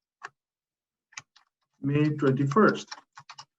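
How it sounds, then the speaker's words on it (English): Computer keyboard typing, a few isolated keystrokes spaced apart, then a brief run of clicks after a stretch of speech; a voice talks in the middle over the quiet room. "Now you can start typing whatever you want."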